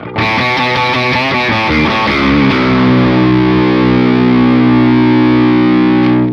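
A Telecaster electric guitar with parallel distortion plays a quick run of notes, then lets a full chord ring out and sustain loudly with a gritty, fuzzy edge.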